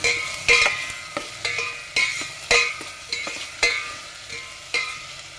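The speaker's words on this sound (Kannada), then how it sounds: "ಟೊಮೊಟೊ ಸೇರಿಸ್ಕೊಂಡು ಜಾಸ್ತಿ ಹೊತ್ತು ಫ್ರೈ ಮಾಡೋದೇನು ಬೇಡ" Sliced onions and a medium-sized tomato sizzle in a pan for hotel-style sambar, with about eight rhythmic stirring scrapes of a spoon breaking through the steady frying hiss.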